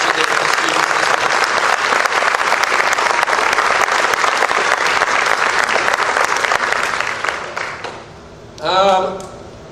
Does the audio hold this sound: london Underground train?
no